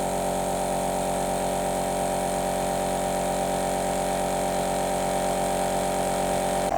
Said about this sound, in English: And you should hear the compressor.